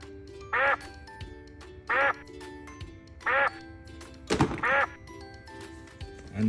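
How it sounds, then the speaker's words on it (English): A big yellow toy duck with an orange beak quacks four times, loud and near, with a soft thump between the later quacks and a toy tune looping underneath. "This is a yellow duck that's very big with an orange beak."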